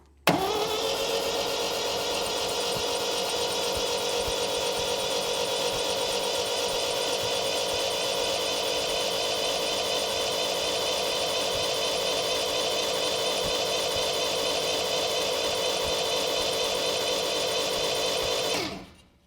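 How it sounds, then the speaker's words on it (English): Rebuilt performance engine in an MGB GT cranking over on the starter, a steady, even, fast whirring churn held for many seconds at close range before cutting off, with no voices. "crank it over until we get oil pressure"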